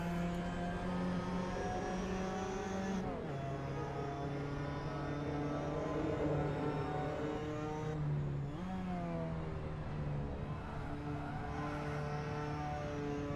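A 1963 Ford Cortina, the Bathurst-winning race car, runs hard on the circuit, its engine droning loudly and steadily with pitch shifts as it changes gears and climbs back up through the revs, with no talk over it.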